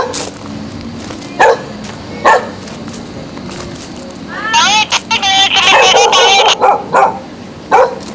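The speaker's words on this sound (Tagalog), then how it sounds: "Ito ang aso." A dog barks in short, loud bursts nearby, with yips and excited whimpering as it grows busier toward the end, over outdoor background noise and people talking.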